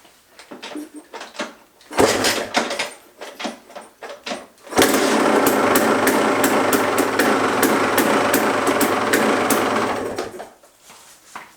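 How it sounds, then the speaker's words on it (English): KTM 300 two-stroke dirt bike with a Lectron carburetor kicks over in short bursts, then fires and runs steadily at a high, buzzing idle for about six seconds before cutting off, close and loud. "so let's turn that choke on. It's on the other side of the electrons and see how it fires up."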